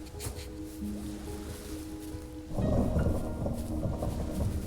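Steady video-game rain patters in the background, growing louder and denser partway through, with a low rumble underneath; no one speaks.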